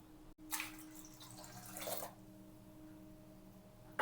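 Water pours steadily into a cooking pot for about a second and a half, a broad splashing rush that then cuts off, leaving a quiet hum behind.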